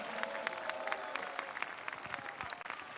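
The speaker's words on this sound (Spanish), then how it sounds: "demos palmas al Señor y un aplauso a Él en esta hermosa hora" A church congregation at a youth convention claps and applauds, scattered individual claps standing out over a fainter crowd wash at moderate distance, with a faint held tone underneath.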